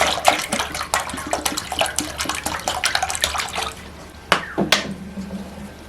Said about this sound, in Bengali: পরিমাণ মতন জল দিলাম